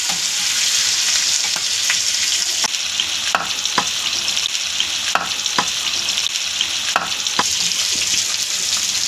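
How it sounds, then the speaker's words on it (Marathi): Liver (kaleji) fries in hot oil with loud, continuous sizzling, broken by repeated sharp crackles and spattering pops at irregular intervals. "लई उडताय, हे तडतडतंय, काळीज उडतंय कुणाचं तरी."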